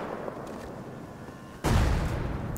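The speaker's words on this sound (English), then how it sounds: "Oh, that was a fucking full-blown grenade." A bean can grenade explodes in the Rust survival game, one sudden loud close blast that cuts in after a quiet stretch and leaves a rumbling tail.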